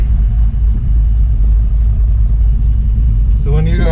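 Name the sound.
1968 Chevelle with refreshed LS6 454 engine running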